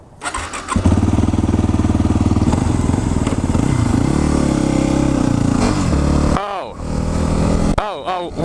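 New motorcycle engine starting and running, a loud close rumble held steady for several seconds with a couple of brief revs near the end, heard with no talking over it.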